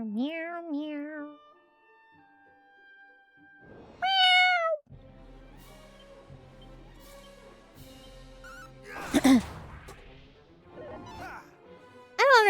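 A person imitates a cat with several drawn-out, rising and falling meows, loud and near, mixed with bursts of video game sound and a sharp crash-like hit.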